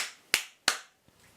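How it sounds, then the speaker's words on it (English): Two sharp hand claps ring out close and loud, evenly spaced, each with a brief echoing tail, followed by a faint softer tap. "you have to clap pretty loud"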